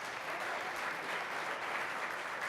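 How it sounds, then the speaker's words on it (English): Sustained applause from the audience at a medical debate on physician-industry collaborations, a dense, steady clapping wash with no talk, moderately loud throughout. "if you could help me by giving them a big round of applause"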